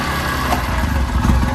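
A motorbike engine, just started after a repair, runs at a steady idle close by, a continuous low chugging rumble with a slight rise in intensity toward the end.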